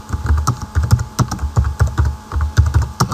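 Rapid, close keystrokes clatter on a computer keyboard in uneven bursts while text is entered into a Windows application being built in C#, loud and alone with no voices.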